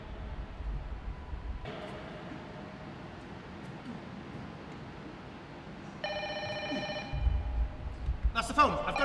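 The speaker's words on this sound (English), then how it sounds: "That's the phone" A telephone rings with a bright, harmonic electronic trill in a short burst partway through, following a low background hum. Clattering and voices come in near the end.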